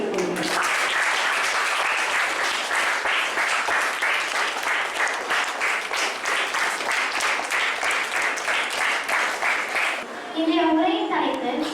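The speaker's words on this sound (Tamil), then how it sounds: "அனைவரும் ஐயாவை நம்ம கைத்தட்டி வரவேற்கும்படி கேட்டுக்கொள்கிறோம்." A school audience claps steadily to welcome a guest at a tree-planting talk, many hands in a brisk, even rhythm for about ten seconds, then stopping as a voice begins speaking.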